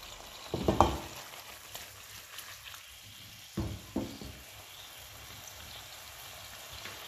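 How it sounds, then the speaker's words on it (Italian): Peperonata topped with mozzarella sizzles steadily in a frying pan, a soft continuous crackle with a few louder bursts of spatter, close by and without speech. "Sulla restante parte, che ho lasciato in padella, aggiungo della mozzarella."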